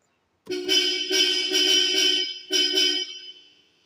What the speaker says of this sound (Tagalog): Ganda na ng busina.